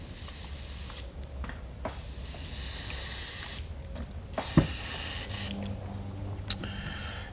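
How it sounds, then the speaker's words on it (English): Airbrush spraying in short bursts of hiss during a quick rinse, with pauses between sprays and a couple of small knocks. "I'll give the airbrush a real quick rinse again."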